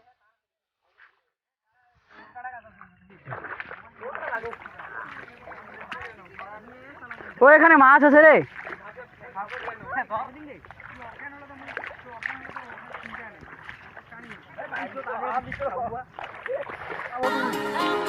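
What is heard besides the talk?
rowing boat moving through canal water, splashing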